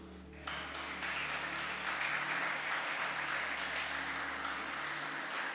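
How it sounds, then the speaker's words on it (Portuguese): A church congregation breaks into sustained applause that swells abruptly and holds steady, dense clapping filling the room with no voices over it. "Dê um aplauso para o Senhor."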